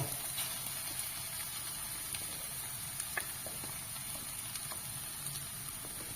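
Ground ginger, garlic and spice paste frying in a pan for chicken curry gives a steady, fairly soft sizzle with scattered small crackles and pops throughout, no voices.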